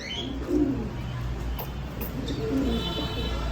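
Soft, low coos from fancy pigeons come in two short bursts over a steady background hum, fairly close and unhurried, with no talking.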